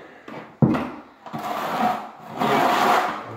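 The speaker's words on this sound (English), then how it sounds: "I'm gonna scrape a little bit more mortar out." A trowel scrapes mortar out during floor tile setting, giving several close, gritty rasping strokes with short pauses between them and no talking.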